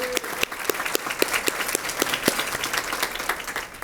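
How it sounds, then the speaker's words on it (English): An audience at a school district Teacher of the Year program applauds steadily for several seconds, a dense, even patter of many hands filling the room. "How about a round of applause for Mark May?"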